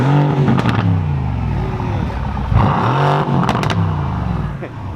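Mercedes-AMG C63 S fitted with an AWE track exhaust revs repeatedly, engine note sweeping up and down in loud close bursts with crackles, a voice briefly talking between revs.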